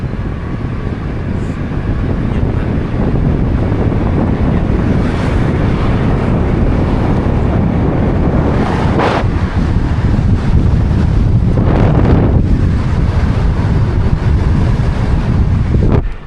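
Cold wind buffets the microphone on a winding mountain road in the Sakon Nakhon range, a loud continuous roar with gusty swells throughout and no speech.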